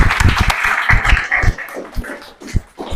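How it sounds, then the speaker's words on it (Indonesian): Classmates clap for a student who has just given a conclusion, a short, uneven burst of close hand claps with some voices mixed in. "Tepuk tangan dulu untuk kawan yang sudah ngasih kesimpulan"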